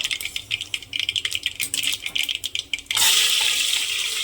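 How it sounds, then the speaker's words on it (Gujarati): Mustard seeds crackle in hot oil while tempering Gujarati vaghareli khichdi, with dense, rapid, close popping for a few seconds before it gives way to a louder, steady sizzling hiss. "રાઈ આવી રીતે ફૂટી જાય, ફૂટવા દેવાની."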